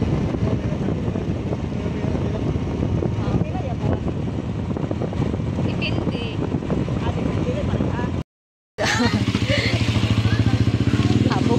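A motorcycle engine drones loudly and steadily with wind buffeting the microphone, briefly cutting out before the engine noise resumes.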